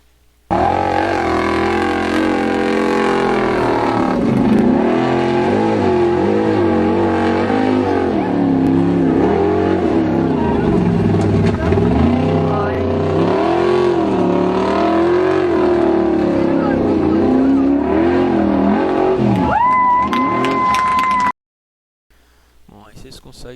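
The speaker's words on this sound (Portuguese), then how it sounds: "um veículo normal, né, jamais iria conseguir vencer esse obstáculo, subir essa pista tão íngreme, cheia de areia, de barro, de cascalho, se não tivesse com 4x4 acionado" A 4x4 off-road vehicle grinds up a steep track of sand, mud and gravel, its engine droning loud and close with shifting pitch for about twenty seconds before cutting off abruptly, with speech over it.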